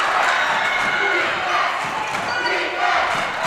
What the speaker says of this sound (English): You can hear the Hamilton crowd.